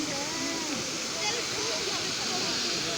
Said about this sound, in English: that's like the bottom to the waterfall